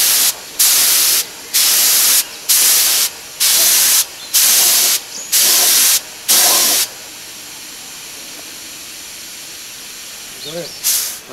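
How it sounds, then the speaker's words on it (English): Spray gun applying grey primer in a marine engine workshop, heard as seven loud, even bursts of broad hissing about a second each with short gaps, then quiet room tone and a faint voice near the end. "So with these guns, you can set the fan pattern to be like that or like that, depending on what you're spraying."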